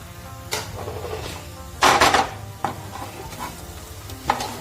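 Spices and chicken masala stirred in a frying pan, with a soft continuous sizzle broken by several sharp scraping strokes of a spoon against the pan, one stronger scrape midway.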